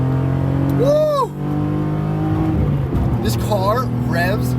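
BMW E46 M3 Convertible engine revving hard while driving, a loud sustained roar with rising and falling pitch sweeps as it climbs toward high revs, with a voice talking over it partway through.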